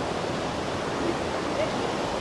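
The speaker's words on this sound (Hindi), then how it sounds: "यहाँ नीचे देखो पानी जा रहा है" River water rushing below the Manikaran Gurudwara in the Himalayan valley, a steady loud broadband roar with strong wind mixed in, continuous for the whole stretch with no pauses.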